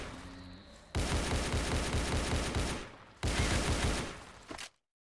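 An RPK machine gun fires at zombies in the shooter game Those Who Remain, in two sustained loud automatic bursts of rapid, evenly spaced shots separated by a brief pause, the second burst cut off abruptly.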